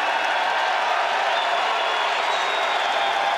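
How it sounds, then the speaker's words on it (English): A crowd at a Big Ten college wrestling match roars and cheers after a sudden-victory overtime win, a dense, steady wash of voices and applause sustained at full volume throughout. "Big cheer from the crowd because Taylor from Wisconsin was able to beat Corey Clark"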